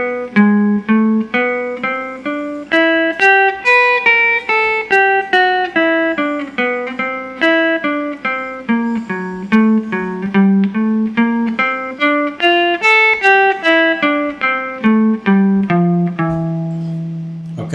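A slow guitar run through a jazz tune, a steady stream of single picked notes rising and falling, close and clear with no talking.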